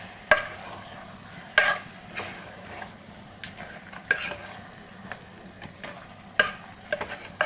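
Mutton being turned and kneaded by hand in a pan makes wet, squelching stirring sounds with a few sharper clacks against the vessel, steady and close, with no talking.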